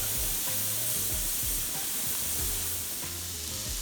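A burger patty fries in a pan with a dense, steady crackling sizzle at close range, constant throughout, with occasional low thumps and faint knocks beneath it and no talking.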